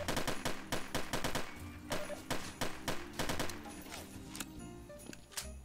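Rapid bursts of automatic weapon fire in a shooter game, loud close volleys of evenly spaced shots in several strings, tapering to sparser shots toward the end.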